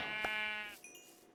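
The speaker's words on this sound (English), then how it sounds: "I think I see double sheep." A single Minecraft sheep lets out one short, nasal bleat, clear and fairly close, fading quickly into quiet game ambience.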